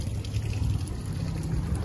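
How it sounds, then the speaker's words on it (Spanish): Water jets pouring from a fountain basin in Comitán, Mexico, a steady close splashing rush that stays loud and even throughout, with no talking. "Y ya viene saliendo lo que es el agua aquí. Son los chorros de la pila."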